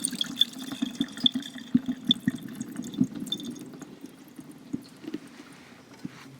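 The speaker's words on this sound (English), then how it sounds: "I'm going to very gently and slowly pour out the water running over the edge" Water from soaked grated potatoes is poured off slowly and gently over a container's edge, a soft, continuous trickle with small drips and splashes, close and alone.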